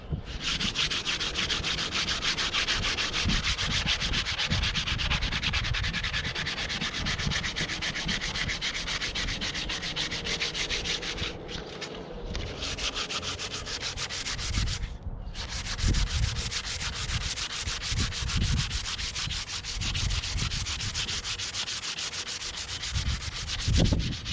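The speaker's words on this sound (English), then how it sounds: "I'm starting out with a really harsh grit. This is 80 grit, and I'm going to be going at it for quite a while." Coarse 80 grit sandpaper is rubbed steadily against a wooden woomera, making a loud, continuous rasping scrape close up that runs for the whole stretch with only a couple of brief pauses and no speech.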